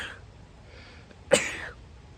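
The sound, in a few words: sneeze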